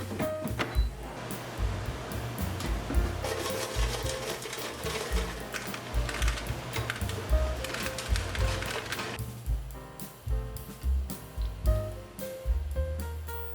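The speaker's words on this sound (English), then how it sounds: "Let's listen to how crispy this tofu really is." Crispy air-fried salt and pepper tofu is bitten and chewed, giving a rapid run of sharp, close crunches and crackles that thin into scattered clicks toward the end.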